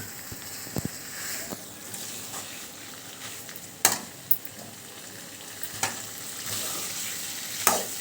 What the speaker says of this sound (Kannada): ನೋಡ್ರಿ ಈಗ ನಾವು ಅದನ್ನು ಚೆನ್ನಾಗಿ ಬಾಡ್ಸಕತ್ತೀವಿ